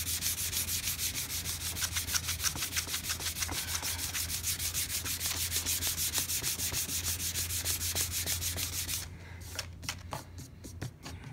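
Rapid, steady rhythmic rasping of sandpaper rubbing over a hardened epoxy finish on wood, close and continuous, stopping near the end with a few lighter strokes.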